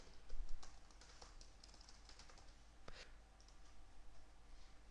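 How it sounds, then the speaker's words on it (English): Computer keyboard typing a web address: quick, irregular key clicks and taps run steadily at close range, with no talk over them. "I'm going to type a caption"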